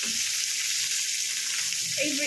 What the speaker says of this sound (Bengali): এই দিকটা ভালো করে ভেজে নিয়ে ফিরছি।